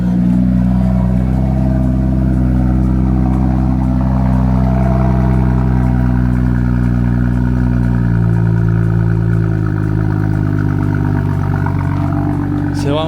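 A BMW M2's engine drones steadily as the car drives, its low harmonic note shifting in pitch as it revs, loud and continuous throughout with the cabin sound filling the whole stretch.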